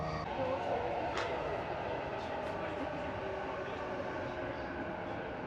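Steady rumble and rattle inside a moving commuter train in Tokyo, Japan, a continuous dense roar of wheels and carriage noise with faint scattered clicks, no clear talk.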